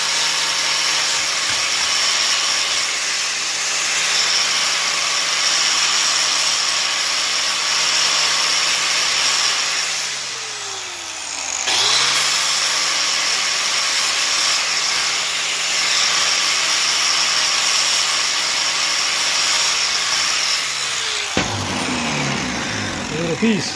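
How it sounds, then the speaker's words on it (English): Small metal patch piece for auto body repair having its sharp edges ground off: a loud, continuous abrasive whine that winds down briefly midway, spins back up, then cuts off near the end. "I'm going to want to grind off all the sharp edges."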